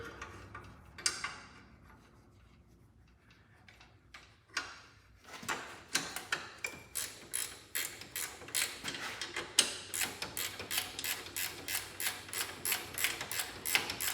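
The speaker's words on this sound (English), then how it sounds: "I'm going to use a ratchet wrench" A ratchet wrench loosening bolts on a Cub Cadet spread frame tractor dash, a few scattered clicks and knocks, then a fast, steady run of close, sharp ratcheting clicks, with no talking.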